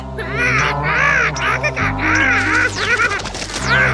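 A cartoon jungle crow caws repeatedly in loud, rhythmic bursts over a steady backing tone, with a brief crash-like hit midway.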